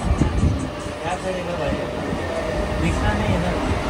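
Steady low rumble and rattle of a Mumbai train running along rails, heard from inside a first-class compartment, continuous and close, with a crowd murmuring faintly underneath.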